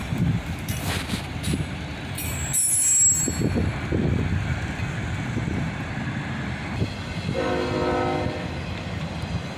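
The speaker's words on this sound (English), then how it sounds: "here comes the tail end of the autorack train, with an ES44 ACH DPU helping" The tail end of an autorack freight train passing with an ES44 ACH locomotive pushing as distributed power. A loud rolling rumble of rail cars carries bursts of horn and a squealing wheel tone near the end, with no talk.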